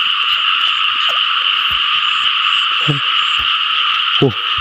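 A dense, unbroken chorus of small frogs croaks steadily throughout a frog-catching outing, loud and close, with a few short low thumps and knocks scattered over the continuous din and no voices.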